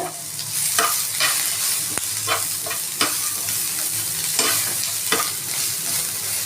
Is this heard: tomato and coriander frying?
yes